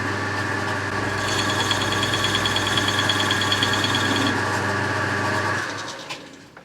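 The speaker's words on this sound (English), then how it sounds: "Let's put a chamfer on it." A lathe cuts a chamfer on a metal part, a steady machine hum and whine running continuously with a high cutting tone layered in for a few seconds, then winding down near the end.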